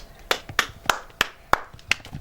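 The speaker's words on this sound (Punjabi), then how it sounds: "ਮੈਂ ਤਾੜੀ ਮਾਰਦਾ" Hand clapping, seven sharp claps at a steady, slightly uneven pace, close and clear with no talk.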